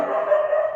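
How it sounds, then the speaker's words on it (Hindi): A single sustained dog bark or yelp, loud and close, heard alone without talk. "कुत्ता भौंक रहे हैं आप"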